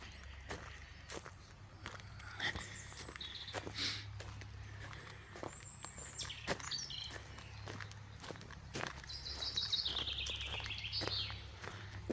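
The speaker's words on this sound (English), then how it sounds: "Nice to hear the birds up here." Birds chirp and trill at a distance over crunching footsteps on a path at Berry Hill Cemetery in Bodmin, Cornwall, quiet outdoor ambience.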